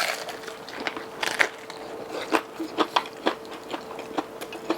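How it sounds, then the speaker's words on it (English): Crunchy bites into Korean-style double-fried chicken wings: a run of sharp, close crackling crunches, several distinct bursts spaced across a few seconds, with no talking. "Y'all hear that crunch?"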